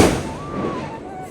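Diwali firecrackers and fireworks go off at home: a sharp burst at the start, then a thin whistling tone glides and fades over a hissy, crackling background.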